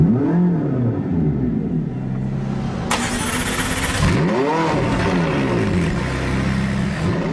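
McLaren 675LT started up at close range, a loud mechanical crank followed by a sharp engine flare rising high in the rev range past 5,000 RPM, then settling into a rough, rumbling idle.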